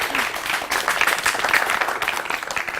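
A studio audience on a morning show claps for a couple of seconds, a dense, steady patter of many hands with no voices over it.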